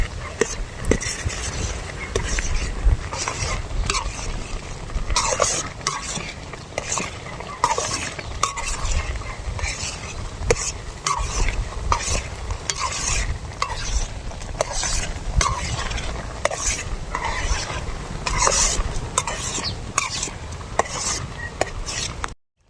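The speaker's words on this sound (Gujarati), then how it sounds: "આપણે આપણી મેગી મસાલો નાખી દીધી, સરખી રીતે હલાવી નાખી" Maggi noodles with masala stirred in a pan outdoors on a farm, loud repeated scraping and clattering of a spoon against metal over a steady sizzle, no talking.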